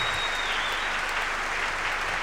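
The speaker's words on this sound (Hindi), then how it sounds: "मैं चाहूंगा एक बार आप अपने लिए जरूर तालियां बजाएं" A seminar audience on direct selling claps for themselves in a dense, steady burst of applause that fills the room, loud and continuous from start to finish with no talking over it.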